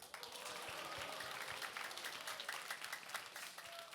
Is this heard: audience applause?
yes